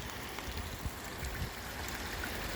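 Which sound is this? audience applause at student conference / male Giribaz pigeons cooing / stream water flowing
stream water flowing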